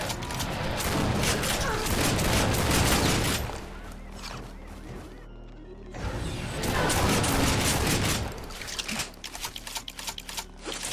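Rapid slam-fire shotgun blasts in a shooter video game, dense loud volleys in two long bursts separated by a brief lull, with mechanical clatter and no talking.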